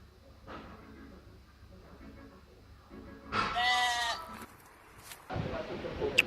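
A sheep bleats loudly in a single wavering cry, inserted as a short sound effect after a stretch of quiet low background, followed by a burst of broadband noise.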